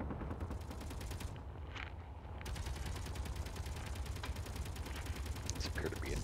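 Gun turrets in Space Engineers fire in a rapid, steady stream of mechanical shots that pauses briefly near the start, then resumes as a fast, even rattle for the rest of the clip.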